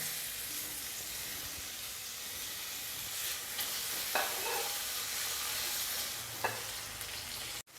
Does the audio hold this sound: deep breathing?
no